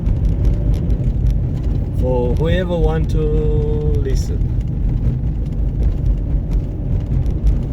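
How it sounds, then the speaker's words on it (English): Steady low road rumble of a car cruising on a highway, continuous and fairly loud throughout, with someone talking over it. "I'm driving on a highway back to an area where I can go for a hike."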